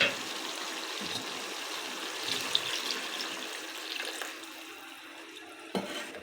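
Water splashing and pouring steadily into a cooking pot of meat at close range, with a soft clink or two and a brief knock near the end.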